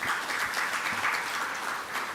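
A seated audience at a national Islamic finance gathering addressed by the Bank Indonesia governor breaks into applause: a continuous, moderately loud wash of many hands clapping, holding steady for a couple of seconds.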